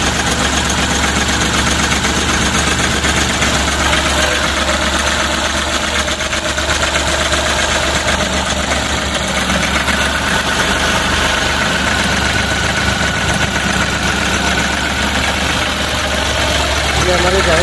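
A white Ashok Leyland Dost pickup with a problem idles close by, its engine running loud and steady with a continuous rattling vibration throughout.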